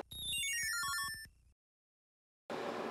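A Uniden DECT 1560 cordless telephone with a DCX150 handset plays a bright descending ring melody close by, followed by a second of silence and then the start of another ring.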